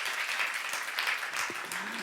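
Congregation applauding in a church during a youth-service sermon, a steady wash of clapping from many hands with no speech over it.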